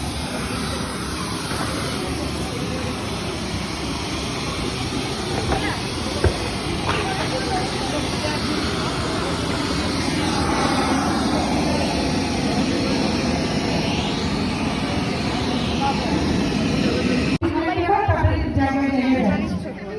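Steady, loud broadband roar inside an airliner cabin as the plane comes in to land, holding at an even level for the whole stretch, with faint voices now and then underneath.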